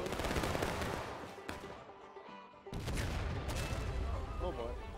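Musket volleys in the War of Rights video game during an Antietam battle, with dense crackling gunfire from many rifles at once, a brief lull, then another burst, loud and layered, with voices shouting among the shots.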